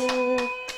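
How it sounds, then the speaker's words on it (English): Three separate, evenly spaced hand claps sound close by in a home setting after a children's song, over a steady tonal hum. "now clap, everybody"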